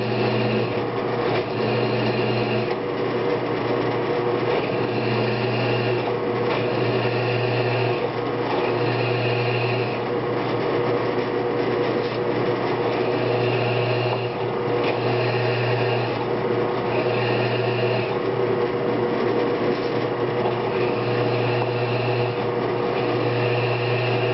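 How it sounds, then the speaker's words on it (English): A continuous whining drill bores steadily through knife steel, the motor pitch holding constant with slight pulsing variations for the whole stretch. "I've ruined drill bits just by trying to punch right through"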